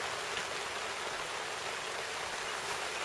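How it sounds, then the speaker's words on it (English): Steady rain falls on a three-year-old Coleman Instant Tent 8 at a weekend campsite early on a Sunday morning, a dense, even hiss of drops drumming the fabric without a break. "It's raining."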